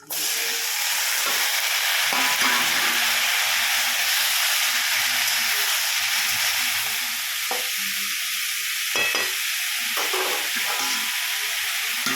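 Steady, loud sizzling of chicken frying in a hot pan, a continuous hiss with occasional faint clinks, no voices.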